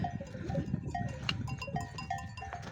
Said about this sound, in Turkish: Keçi bağırmaya başladı.